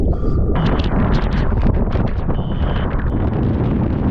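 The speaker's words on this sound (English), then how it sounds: "if you wanted to get out there and take the brunt force of the wind" Strong Hurricane Ian wind at Punta Gorda, Florida, a loud, close, continuous roar with buffeting microphone rumble and gusting surges throughout.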